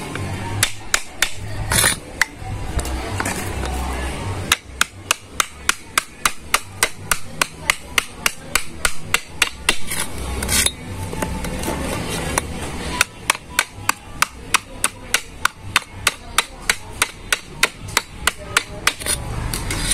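Repeated hammer blows strike a wooden wedge to straighten it while a traditional drum is being made, sharp close knocks coming in quick rhythmic bursts separated by brief pauses, continuing for about twenty seconds without talking.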